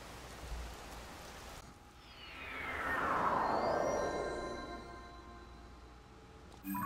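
Steady rain hisses in the video game The Legend of Zelda: Tears of the Kingdom, a broad even wash of falling water with a swelling tonal sweep through the middle and no talk.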